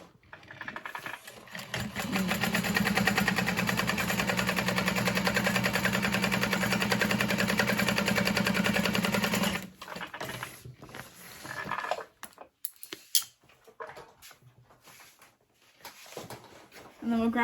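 A sewing machine top stitches through a bag with a fast, steady mechanical whirr for several seconds, then stops, followed by handling clicks and a voice talking.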